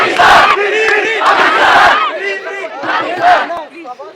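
A crowd in Islamabad chants Free Pakistan slogans, loud massed voices shouting in repeated rhythmic bursts close by.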